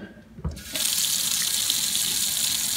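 Hot water gushes from a tap into a cooler, starting with a brief clunk and then settling into a steady, close, full-bodied rush of water.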